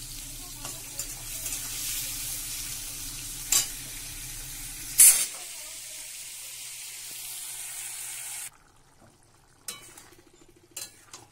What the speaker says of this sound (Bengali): তেল গরম হয়ে গেছে, চিংড়ি মাছটাও দিয়ে দিলাম।